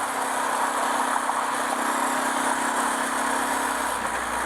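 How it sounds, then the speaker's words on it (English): An adventure motorcycle on a shakedown ride for the Nevada Backcountry Discovery Route runs steadily, its engine a continuous close drone with a constant hum and wind rush and no talking. "The bike is running good"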